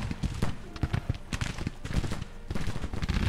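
Rifle volleys in the Civil War strategy game Grand Tactician: The Civil War make a dense, continuous crackle of musketry with scattered louder pops, moderately distant, rolling on without pause.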